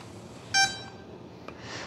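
Electronic speed controller of an FMS PA-18 RTF 1.3 m RC plane beeping after the battery is plugged in: a single short, clear multi-tone electronic beep up close, followed by a tiny click, with a quiet room behind.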